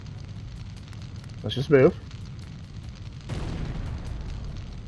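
A grenade goes off in the Syphon Filter video game, a sudden explosive burst followed by a rumbling, noisy tail, with a brief spoken line just before the blast.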